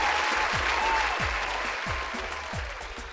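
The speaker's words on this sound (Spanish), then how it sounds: "Aplausos para Carla de Arequipa, una chica de secundaria emprendedora." Applause for Carla from Arequipa, a secondary-school student entrepreneur, on a radio program: a dense, steady wash of clapping that fades slightly, with faint low thumps repeating in the background.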